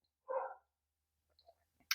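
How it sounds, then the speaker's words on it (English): Dog barking once at a distance, a single short muffled bark followed by a few faint clicks and small noises in an otherwise quiet room. "sorry for the dogs barking"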